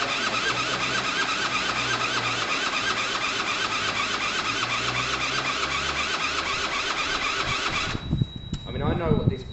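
A Gilera DNA two-stroke scooter is cranked over and over without catching, a steady whirring, whining starter drone that runs for about eight seconds and then cuts off, leaving brief mechanical clatter and a voice.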